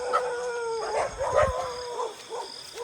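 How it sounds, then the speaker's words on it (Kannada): A dog howls and yips at night near a graveyard, a series of drawn-out, wavering howls rising and falling over about three seconds, fairly close with no talking. "ನಾಯಿ ಬೇರೆ ಬೊಗಳ್ತಾ ಇದೆ."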